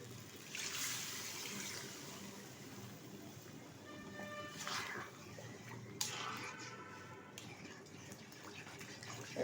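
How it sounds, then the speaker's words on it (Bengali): Water is poured into a pan of mung bean kalia curry during home cooking, a soft steady trickle and splash running through the whole stretch with a few brief louder gushes, fairly quiet and without talk. "একটু নেড়ে চেড়ে নেওয়ার পর দিয়ে দিচ্ছি পরিমাণ মতো জল"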